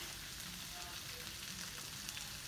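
Onion stir-frying in a wok gives a steady, even sizzle with a soft hiss throughout, close but quiet.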